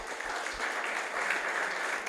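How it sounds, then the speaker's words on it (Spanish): A church congregation applauds during a sermon, a soft, steady wash of many hands clapping, fairly distant and without speech over it. "Vamos a darle un aplauso"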